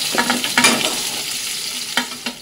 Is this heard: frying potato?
yes